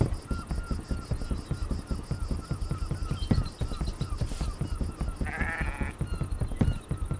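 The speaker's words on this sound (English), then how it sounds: "Man, the sheep sounds sick." A Minecraft sheep gives a short, sickly-sounding bleat over a steady, rhythmic game soundscape in a horror-themed world, with no talking.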